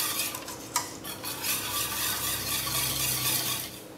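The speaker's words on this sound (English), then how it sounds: "And then whisk it in." Melted butter is whisked into buckwheat crêpe batter in a bowl, giving a steady, close, wet scraping and swishing of the whisk with a sharp clink near the start, no voices.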